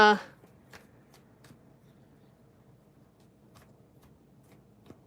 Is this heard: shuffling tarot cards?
yes